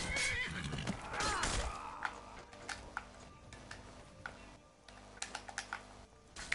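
A horse whinnies in Skyrim, a loud rising neigh near the start, followed by scattered quick ticking clicks over a low hum, with a fainter, sparser tail.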